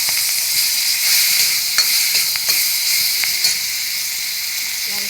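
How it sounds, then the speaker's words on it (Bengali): Food fries in a pan for a home-cooked dish of chopped bottle gourd with garlic and onion, a steady close sizzle and hiss with occasional stirring clicks and scrapes, no talking. "দেখো আমি এইভাবে ভেজে নিচ্ছি।"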